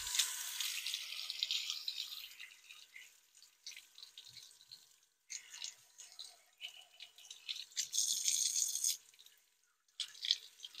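Soft ear plugs being rinsed under a running tap: a fairly quiet hiss of flowing water that stops and restarts, with brief splashes and drips as the water is interrupted.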